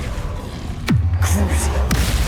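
A Confringo blasting spell fires in the Hogwarts Legacy video game. Two swooping, booming impacts land about a second apart over a busy background of game sound.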